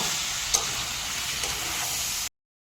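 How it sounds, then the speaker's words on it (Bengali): Mixed vegetables with green peas are stirred and fried in a wok, giving a steady close sizzle with a sharp clack of the spatula early on. "কড়াইশুঁটি দেওয়ার পর 3-4 মিনিট খুব ভালো মতো করে নাড়াচাড়া করে নিচ্ছি"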